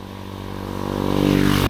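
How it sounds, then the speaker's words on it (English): A motorbike engine drones nearby and grows louder as it passes, then cuts off abruptly. "So there is a lot of motorbike here."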